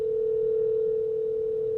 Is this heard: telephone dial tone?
yes